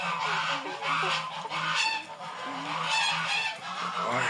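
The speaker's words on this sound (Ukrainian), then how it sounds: "Це чуть що хто не почув, гусі прийшли." Several geese honk loudly and repeatedly nearby, their nasal calls overlapping in a noisy, continuous chorus.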